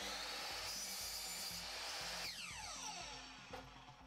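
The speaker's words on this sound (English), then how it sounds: "I'll go over to the bandsaw and I'll cut that out" Bandsaw cutting a piece of wood for a phone holder, a steady loud whine and rasp of blade through timber that shifts pitch near the end of the cut as the piece frees, with no talk.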